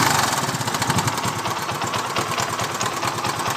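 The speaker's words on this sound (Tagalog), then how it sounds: "Papakita ko sa inyo mamaya kung paano i-adjust yan para mawala yung knocking sounds." A car engine runs steadily with a rapid, rhythmic knocking tick from a worn manual tensioner, close and fairly loud throughout, with no talking.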